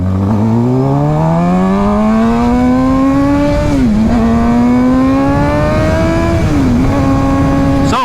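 A Suzuki GSX-R600 sport motorcycle engine climbs steadily through the revs with a loud, close, rising whine, dipping briefly at two gear shifts before pulling up again, heard alone.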